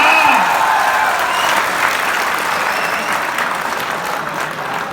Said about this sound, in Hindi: ताली बजाओ बच्चों के लिए जोरदार।